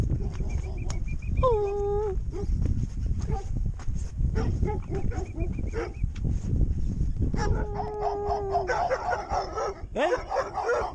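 A dog barks repeatedly in short bursts and lets out drawn-out whimpering whines, close and loud, with rustling and a few faint voices in the background of an outdoor winter hillside in Albania.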